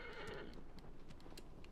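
A horse in the Shadow of the Colossus game on PS4 neighs loudly up close in a long whinny, with hooves clopping steadily underneath throughout.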